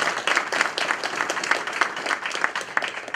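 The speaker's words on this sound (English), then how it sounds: "can we have a round of applause for our very busy candidates coming out tonight?" Moderate applause from an audience at a community meet-the-candidates night, a scattered run of claps that holds steady throughout.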